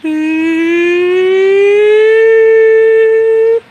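A single rising, wailing civil defense siren tone, imitated by a voice, swells slowly and holds loud and steady before cutting off abruptly.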